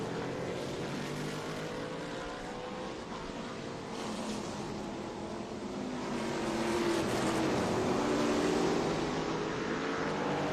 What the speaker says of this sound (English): these TA Cup cars with those Cup engines in them, they go.